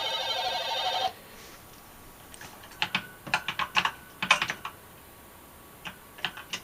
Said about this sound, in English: I love the clank of the Electron keyboard in the mornings.